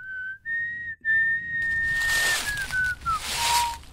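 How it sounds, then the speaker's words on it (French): A young man's clear, sliding whistled melody, close and steady, with long held notes that drift gradually lower over a few seconds. "un jeune homme sifflotant ramassait du bois"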